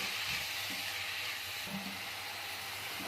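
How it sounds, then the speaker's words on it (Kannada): Grated bottle gourd frying in ghee for halwa, a steady close hiss and sizzle with faint stirring scrapes underneath, no voices. "ಇದನ್ನು ನಾವು ಹಸಿ ಸ್ಮೆಲ್ಲು ಹೋಗೋ ತನಕ ತುಪ್ಪದಲ್ಲಿ ಫ್ರೈ ಮಾಡ್ಕೋಬೇಕು"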